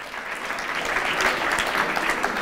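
A conference audience at the QA: Challenge Accepted 4.0 closing event applauds Sashka. A brief burst of many hands clapping together, full and sustained at a steady loudness.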